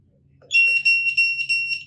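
Series of sharp electronic beeps from a BTG PTC watch in beep alert mode, four to five short high tones in quick irregular succession after a brief soft click, close and clear.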